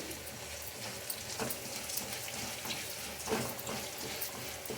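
Coriander seeds dry-roasting in a pan for mutton curry give a steady, moderately close sizzling hiss with scattered crackles and faint scraping stirs throughout, no voice present.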